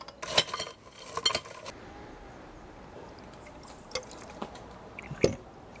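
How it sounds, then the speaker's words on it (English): Ice cubes dropped into drinking glasses at a cooking demonstration: a few scattered, faint clinks and rattles over quiet room background, with no talking. "put some ice into our glasses"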